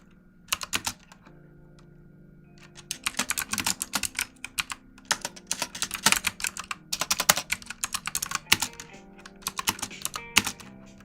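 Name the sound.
typing on a loud computer keyboard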